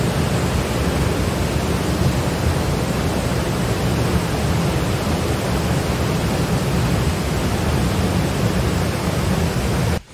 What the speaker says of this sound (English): Can you hear the sound of water flowing through the lava columns?